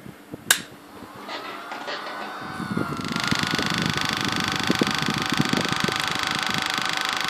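A homemade Tesla transformer powered from 12 volts switches on with a sharp click, then settles into a steady, fairly loud buzzing hum with a bright high-pitched whine layered over a low rumble, running on without pause.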